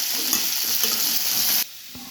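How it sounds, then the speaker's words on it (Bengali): A vegetarian cumin dish fries in a pan with a loud, steady hiss, scraped and stirred with a few soft knocks before the sizzle suddenly drops to a quieter level near the end. "তো এটা আর একটু ভাজবো"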